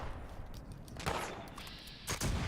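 Black powder blunderbuss shots in Fallout 76 boom out twice in succession, each a broad blast with a short rumbling tail over low background noise.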